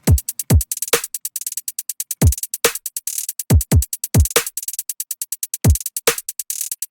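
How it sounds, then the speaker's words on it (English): A looping trap drum beat with booming low kicks and rapid, rolling hi-hat ticks, punchy and steady, with no voices. "So I pretty much just repeat this 4-bar loop, and my drums sound like this."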